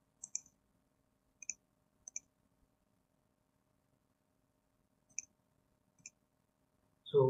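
A handful of sparse, faint computer keyboard clicks with long silences between them in a quiet room, ending in a brief low thump.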